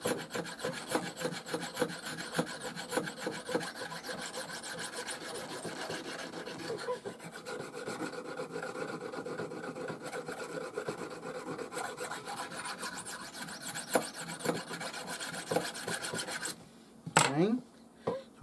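A knife blade is drawn repeatedly across a Banded Jasper Viking whetstone, a steady, close grinding rasp of continuous strokes that ends in a few sharper scrapes.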